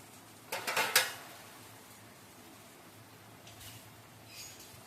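A metal lid goes onto a cooking pot of goat head curry with a quick rattling clatter of several close metallic knocks, then only faint background hiss and a soft clink or two.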